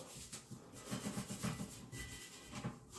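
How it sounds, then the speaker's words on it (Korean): A scouring pad scrubs the top of a toilet's water tank in quick, faint back-and-forth rubs, uneven bursts of scratchy friction heard close. "이 물탱크 위쪽 면에 오염이 좀 있기 때문에 수세미로 닦아주면 훨씬 더 청결하게 사용이 가능하시겠죠"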